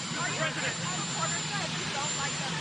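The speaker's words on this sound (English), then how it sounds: "You have a helicopter raging back." A helicopter roars steadily overhead, loud and continuous with a throbbing rotor texture, outdoors by the White House, while voices talk underneath.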